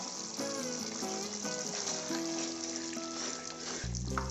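Tamarind kuzhambu with jaggery added bubbles and simmers steadily in a pan, a continuous close sizzle with some tonal clinks, then a louder low thump near the end.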